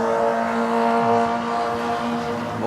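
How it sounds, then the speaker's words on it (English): A loud motorcycle passes close on a city street during a bike ride in Chicago, its engine giving a sustained, harmonic drone that holds strong throughout, with no talking. "Motorcycle is really loud."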